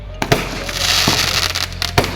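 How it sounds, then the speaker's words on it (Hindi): Fireworks explode at the Dewa Sharif fair in Dewa, a few sharp bursts cracking out over a steady hum of crowd and fair noise. "एक के बाद एक ये पटाखे आकाश में पहुंच रहे हैं,"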